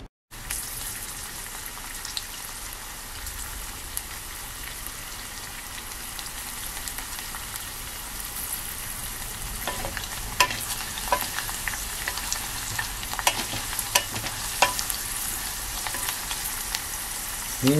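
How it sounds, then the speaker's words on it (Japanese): Garlic frying slowly in olive oil over low heat for mushroom garlic oil, a soft continuous crackling sizzle with small pops that grow a little busier later, heard alone without talk. "これでオリーブオイルにニンニクの香りを移していきます"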